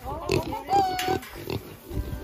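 Several pigs grunting and oinking inside a pen on a piggery farm, repeated close grunts and squeals in irregular bursts, with people talking over them.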